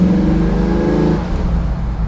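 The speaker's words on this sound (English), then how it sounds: "I love the throw you back in your seat throttle response here." An ECD-built 1967 Ford Mustang accelerates hard, its engine revving loudly with a strong, rising harmonic growl up close, then easing to a lower rumble after a gear change.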